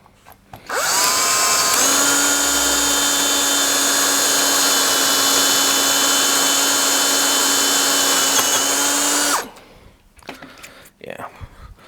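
A power drill bores out the wooden wedge from the head of a 2 1/2 lb lump hammer, a loud steady whine that holds for about nine seconds and then cuts off, followed by brief handling knocks.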